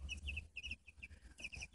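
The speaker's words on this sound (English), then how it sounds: "here's our chickens" Five backyard chickens, including a small bantam, cluck softly nearby in short repeated notes, faint and close, with no talking.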